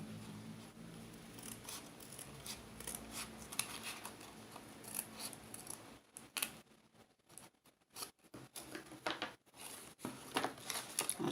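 Scissors cut through a toilet paper roll for a basket craft: a long series of irregular crisp snips and paper crackle, close and fairly loud, with brief pauses between cuts.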